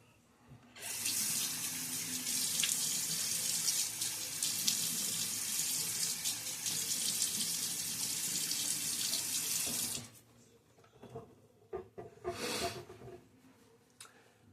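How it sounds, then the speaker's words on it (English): A bathroom tap runs steadily for about nine seconds in a loud, hissing close-up stream while the face is wetted before a shave. After it shuts off, faint splashes and drips follow. "And now I'm going to get my face wet."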